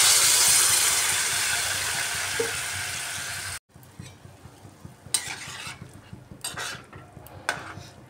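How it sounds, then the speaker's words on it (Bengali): Water is poured into a pan of ridge gourd frying over full heat, a loud steady sizzle and hiss that cuts off abruptly, followed by scattered clinks and scrapes of a utensil against the pan. "এবার এর মধ্যে দিয়ে দিচ্ছি পরিমাণ মতো জল।"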